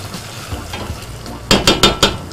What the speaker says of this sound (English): you leave that to caramelize a bit, for the onions to get a bit more caramelized